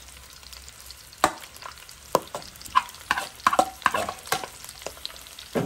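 Onions frying in a pot for a potato boucané dish while being stirred, with irregular scraping clacks and soft sizzle close by; a voice speaks one brief word.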